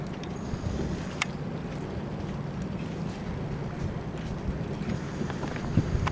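Boats pass close by on open water, making a continuous loud rumbling wash of engine and water noise with wind buffeting the microphone.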